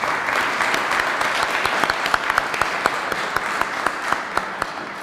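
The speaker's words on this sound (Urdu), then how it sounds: "تو ایک دفعہ ان کے لیے بھی ہم زوردار تالی بجائیں گے" Audience applause at a Women's Day celebration in Amersfoort, Netherlands, a loud, sustained burst of crowd clapping with sharp individual claps standing out, filling the room without talk.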